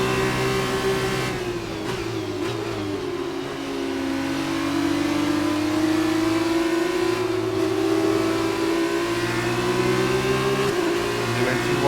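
A Formula race car engine in F1 2019 holds a loud, steady high-pitched whine, its revs shifting gradually with gear changes and brief dips, while someone talks over it.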